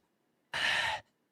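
A person imitates heavy breathing with a single sharp, breathy exhale or gasp lasting about half a second, close and fairly loud, with silence around it.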